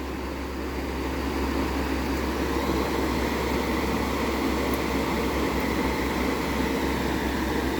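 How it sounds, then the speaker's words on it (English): A steady, loud whooshing roar of a fan running at full speed, with a constant low hum and no pauses. "I'm going to turn this fan on again."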